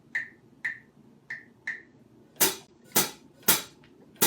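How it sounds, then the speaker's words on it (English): Four light, woody clicks tap out a pulse, then loud, close hand claps join in a clave pattern at a percussion lesson. The crisp, sharp claps ring out with short gaps and no talking. "let's have you clap along with me."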